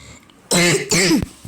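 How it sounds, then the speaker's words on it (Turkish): Two sharp, loud coughs from a gamer during a Magic Brawl session, close to the microphone, followed by a brief throat click. "Öksürümün dahi duyulmaması lazım değil değil mi?"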